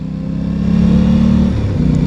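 Aprilia Tuono 660 motorcycle engine, a 2021 A2 model, accelerating with a steady, loud mid-pitched drone that rises and shifts tone partway through, heard alone without talk.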